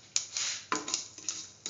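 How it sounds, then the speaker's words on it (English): Mustard seeds popping in hot oil, a few sharp irregular crackles and sizzling bursts over a quiet background, close and brief. "Once the mustard seeds start popping, put in the fenugreek seeds."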